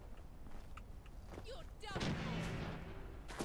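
Gunfire in the game Fallout: London, a few sharp shots and a louder burst over a dense, noisy game soundscape, with a voice talking alongside.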